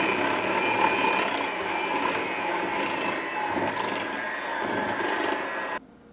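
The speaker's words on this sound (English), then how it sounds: "And then we are going to mix it with a beater here." A beater mixes bread dough for no-knead oatmeal molasses sandwich bread, with flour going in. It makes a steady, close whirring mechanical hum with a faint rhythmic pulse that runs without a break for about six seconds and then stops abruptly.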